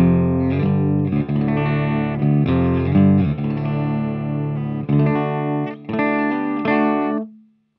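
Clean electric guitar chords ring through the clean channel of a Laney Loud Pedal, a 60-watt dual-channel amp in a pedal, into a PV5150 4x12 cabinet, strummed in loud rhythmic bursts and ending on a sustained fading chord.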